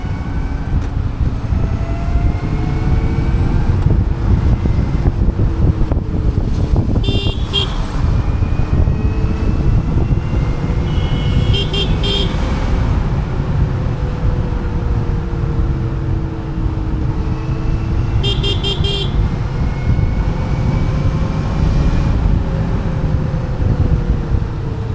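A Matter EV electric motorbike rides along the road in second gear, a steady broadband rush of wind and road noise with faint whining tones throughout, loud and continuous.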